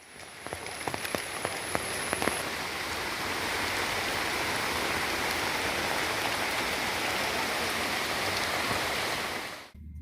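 Heavy rain and strong wind in the Sreekrishnapuram area, a dense, steady roar of downpour that stays loud and unbroken throughout, with a few sharp drips near the start.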